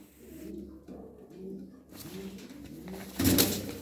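Domestic pigeons in a coop give soft repeated low coos, fairly close and moderate in volume, with a brief rustle or flutter near the end.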